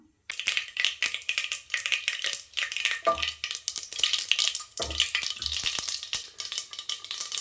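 Mustard seeds and chana dal fry in hot oil in a pressure cooker for veg biryani, crackling and popping in a dense, continuous sizzle, with a few louder stirring clunks near the pan.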